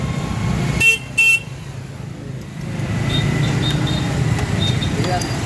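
Two short, loud car horn blasts cut through the low rumble of slow-moving road traffic, followed by thinner, fainter beeps from other vehicles, with voices nearby.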